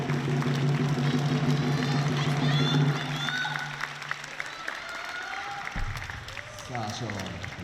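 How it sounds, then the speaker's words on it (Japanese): Applause from a crowd in a gymnasium at a professional table tennis league match, loud for the first three seconds, then thinning into scattered crowd noise, murmuring and a few thuds. "皆さんの拍手で。"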